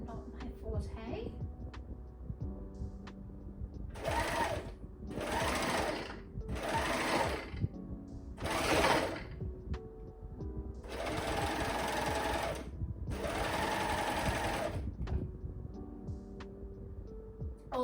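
An overlock serger sewing a scrunchie seam runs in several rapid buzzing bursts of a few seconds each, close and loud, with pauses between and a voice talking over the quieter stretches.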